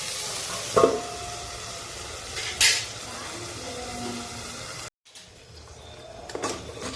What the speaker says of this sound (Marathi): त्यावरती झाकण ठेवून मी थोडं वाफळून घेते।